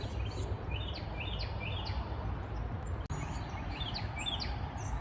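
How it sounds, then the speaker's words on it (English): Several bird calls and chirps ring out in a spring forest in the USA, repeated short tweets spread across the clip over a steady outdoor background hiss, fairly distant, with a brief click near the end and no talking. "The birds are talking to each other."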